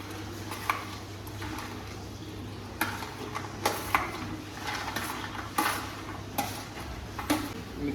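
A utensil stirs fried soybean pieces into gravy in a pan, with soft, irregular scraping and knocking against the metal and a faint sizzle underneath.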